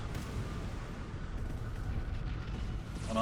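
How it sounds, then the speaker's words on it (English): Missiles launching in rapid succession from a ship in Starsector, a dense continuous rumbling roar of overlapping launch thrusts and booms, heavy and sustained throughout. "Oh my god, that thing just vomits missiles!"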